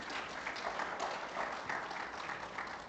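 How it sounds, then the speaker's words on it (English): An audience at a telecom conference panel in Kigali applauds, a fairly soft, steady wash of many hands clapping from a distance, holding even for the whole stretch. "A round of applause, please."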